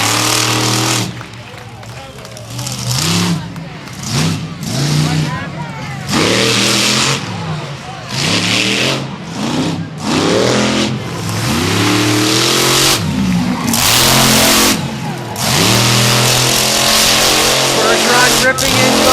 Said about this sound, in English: Ripping into a donut one more time in the General Tire Monster truck